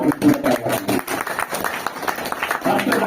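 Audience applause at a pensioners' association foundation day gathering in Jafrabazar, a dense steady patter of many hands clapping for about three seconds, fairly loud and continuous with slight swells.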